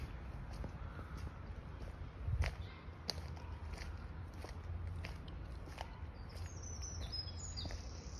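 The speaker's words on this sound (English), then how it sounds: "I guess we can enjoy the chirping of different birds in the woods." Birds chirp faintly in the woods of Queens Park in Bolton, with scattered short calls over a steady outdoor hiss and a few nearby clicks and knocks.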